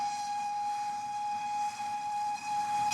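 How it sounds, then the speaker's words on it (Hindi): A train crossing a 19th-century steel bridge over the Indus, with a sustained steady whistle-like tone held over a constant rumbling engine and rail noise throughout, no voices. "सिर्फ रेलगाड़ी के पहियों की छुक छुक और इंजन का शोर गूंज रहा था।"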